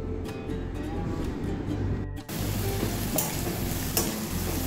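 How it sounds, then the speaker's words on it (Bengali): Bitter gourd pieces fry in a pan with turmeric, with a busy sizzle and repeated scraping stirs close by, a brief lull midway before the crackle resumes. "সেই জন্য উচ্ছেটা আগে দিয়ে উচ্ছেটা একটু বেশি করে ভেজে নিচ্ছি।"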